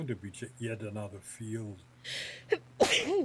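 A person talks briefly, then lets out one sharp, close sneeze with a breathy intake just before it, during a relaxed flight-simulator session; a short gasp-like burst comes right before the main sneeze.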